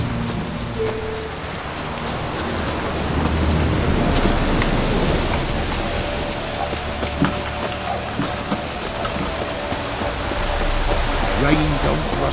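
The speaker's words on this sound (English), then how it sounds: "Looks like rain." Steady rain falls across an open scene in The Witcher 3, a dense, even hiss filling the whole clip with occasional louder drops and faint game sounds.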